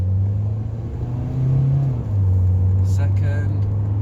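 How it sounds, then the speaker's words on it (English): A Ford Focus Mk1 with a 4-speed automatic kicks down and pulls through the gears, giving a steady interior engine drone that rises, drops at a shift, then carries on as a low hum, with speech briefly over it. "I'm going to do a kick down in my 4-speed automatic"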